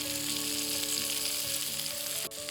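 Green and red bell peppers, cut into long thin strips, sizzle and fry steadily in a pan for fajitas, a continuous close, bright crackle with a brief clink near the end.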